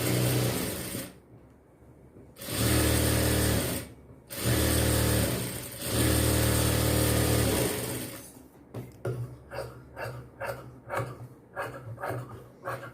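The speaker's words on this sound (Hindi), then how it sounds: "पहले नीचे से एक सीधी सिलाई लगाएंगे।" A sewing machine stitching a straight seam on a blouse, running in steady bursts with brief pauses, then a faster stuttering run of rapid mechanical clicks, close and clear.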